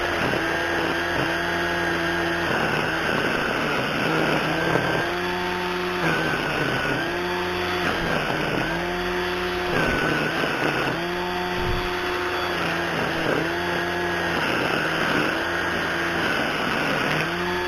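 Ryobi 40-volt battery string trimmer running steadily as it rides along the ground mowing grass, a loud continuous motor whine with rhythmic dips and swells in pitch, close by with no talking.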